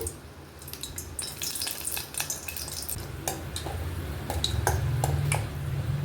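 Dried red chillies crackle in hot oil for a tempering for spinach dal, a steady sizzle with scattered pops and light stirring that grows louder toward the end.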